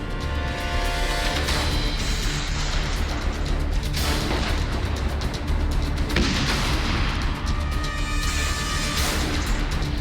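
Artillery fire from tanks and cannons in the Russia-Ukraine war: dense, continuous booming and cracking reports that overlap throughout, loud and broadband, with several heavier blasts standing out.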